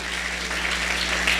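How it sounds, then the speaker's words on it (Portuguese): A church congregation at a Sunday service breaks into dense, continuous clapping, close and steady throughout, with a low hum running underneath and no talking over it. "Uma salva de palmas para o Isaac"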